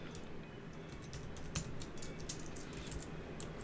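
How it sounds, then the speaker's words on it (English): Quiet typing on a computer keyboard, a run of soft, irregular key clicks and taps over a low background hum, fairly close and not loud. "So I'm just going to type this here."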